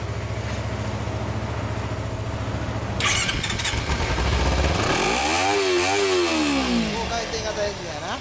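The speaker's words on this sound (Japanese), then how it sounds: "エンジン音聞かせてもらえるかな。" A 2014 Kawasaki Ninja 250 motorcycle idles briefly, then its engine fires up and revs hard several times, rising and falling close by, with a voice speaking over it.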